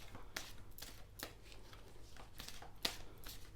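A deck of tarot cards is shuffled by hand in several short riffling bursts, quiet and close, with one sharper snap near the end and no talking.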